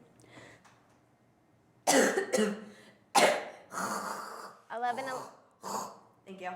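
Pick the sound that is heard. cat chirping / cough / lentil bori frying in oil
cough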